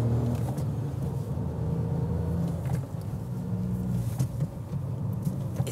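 A Dacia Sandero drives along with a steady, close engine and road rumble, the drone rising and dipping slightly as manual gears are shifted, with no voices.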